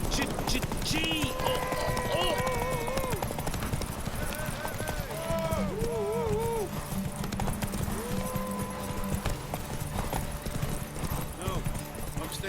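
Horse hooves clip-clop at a steady gallop in The Witcher 3: Wild Hunt, continuous and close, with whinnies and a voice speaking over the rhythm.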